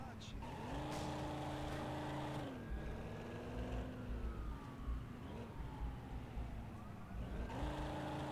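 A police siren wails faintly in the driving game Driver Parallel Lines, rising and falling over a car engine that revs and shifts up, with someone talking.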